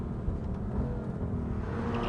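A BMW M3 engine hums and rumbles as a steady, close, continuous drone, the revs climbing only slightly and without a sharp peak.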